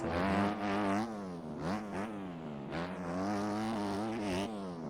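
Supercross dirt bike engine in the video game MX Bikes, revving hard over and over, its pitch sweeping up and dropping between gear changes in a loud, continuous, buzzing whine.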